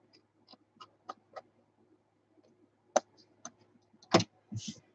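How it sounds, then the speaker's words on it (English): Scissors trim overhanging paper edges on a handmade envelope stack album, giving a series of sharp, close, irregular snips and clicks separated by near silence. "You can always remove any overhang, any little piece of edge that is popping out"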